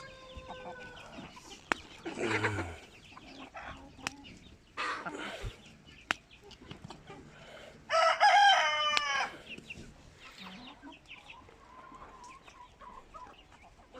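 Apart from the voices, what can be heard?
chickens clucking and rooster crowing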